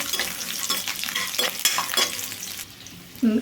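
Ginger and garlic fry lightly in a pan for a hotel-style paneer butter masala, giving a steady close sizzle with scraping stir strokes and a brief tonal clink near the end.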